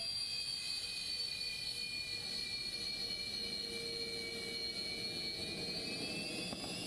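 Steady roar and high whine of a Sukhoi Su-30MKI fighter jet engine, a continuous loud drone with sustained whistling tones that drift slightly in pitch, with no talk over it.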